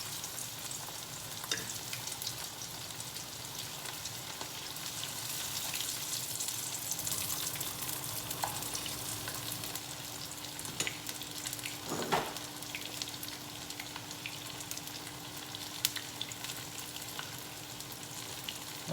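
Beer-battered halibut fries in a pan with a steady, close crackling sizzle that holds throughout, with occasional louder pops and spatters and no talking.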